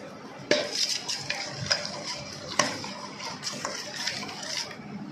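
Fried spice mix for a raw mango pickle is tipped into a pan and stirred, giving repeated metallic scrapes and clinks of a spoon against the pan over a faint background hiss.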